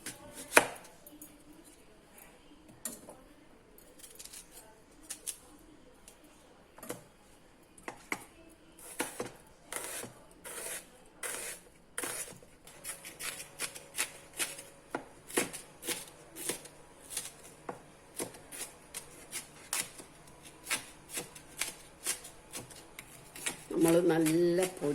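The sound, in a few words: chopping onion with a knife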